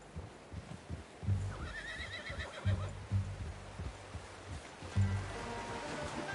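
In the Red Dead Redemption western video game, a horse whinnies repeatedly in a few rising, shaky calls while hooves clip-clop rhythmically underneath, close and steady throughout.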